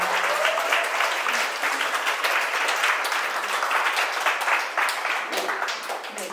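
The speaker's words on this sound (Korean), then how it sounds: "큰 박수로 맞이해 주시기 바랍니다." Warm, continuous applause from a concert audience welcoming a pianist onto the stage at an artist talk concert in an AI art exhibition, steady and close, easing off slightly toward the end.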